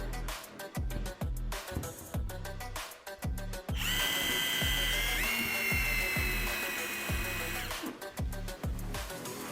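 A cordless screwdriver set to a middle torque drives a screw. It starts with a series of short whirring bursts, then gives a long, loud, steady high whine, and ends with more short stop-start bursts, close by and with no talk.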